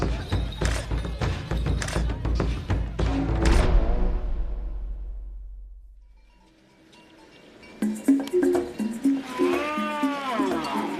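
Cattle low and bellow in a crowd as bulls are gathered and lined up outdoors, loud calls overlapping at first, then a quiet gap before more lowing and voices resume.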